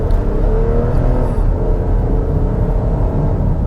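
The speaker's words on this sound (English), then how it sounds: "It makes a good noise through its twin, first for Highlanders, twin tailpipes." A 2021 Toyota Highlander XSE with twin tailpipes pulls onto a freeway on-ramp, its engine giving a steady, continuous whirring rumble at close range with a broad road roar underneath and no talking.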